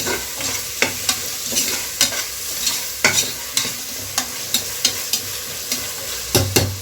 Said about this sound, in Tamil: சீரகம், மல்லித்தழை ஒரு பெரட்டு அப்படி இப்படி பெரட்டிக்கலாங்க.